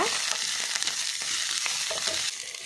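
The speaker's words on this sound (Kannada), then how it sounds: "ಪುದೀನ ತೊಪ್ಪು ಒಂದೆಲ್ಲ ಫ್ರೈ ಮಾಡ್ತೆಗೆ" Coriander and mint leaves crackle and sizzle steadily in hot oil, with faint stirring scrapes through the short, continuous fry.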